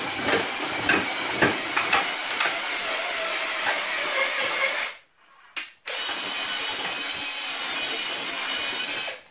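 A cordless drill-driver running slowly as a mixer to break up lumps makes a continuous rough whirring and churning that stops briefly, gives a short burst, then resumes steadily, loud and close with no speech.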